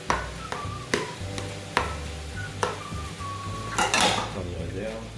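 A utensil stirs and scrapes against a dish as eggplant gratin ingredients with ricotta, ground meat, tomato sauce and parmesan are mixed, with regular clinks and a soft background hum, close by.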